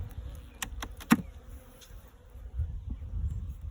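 Honey bees buzz around an open beehive during a hive inspection, a faint, steady hum with a few sharp clicks and knocks of frames being moved close by.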